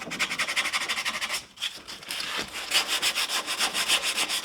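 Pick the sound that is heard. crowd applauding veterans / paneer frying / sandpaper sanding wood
sandpaper sanding wood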